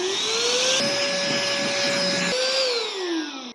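An Airbank Puffer Pro electric inflator pump runs with a loud, steady motor whine and rushing airflow that holds one pitch, drops and shifts partway through, then winds down toward the end.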